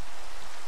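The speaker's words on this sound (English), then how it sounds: "More rain." Steady rain in the Crow video game Captain's Log 4, a dense even hiss of falling drops on surfaces, moderately loud and continuous with no voices, briefly thinning toward the end.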